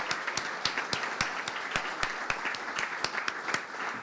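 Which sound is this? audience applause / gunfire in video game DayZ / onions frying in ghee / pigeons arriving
audience applause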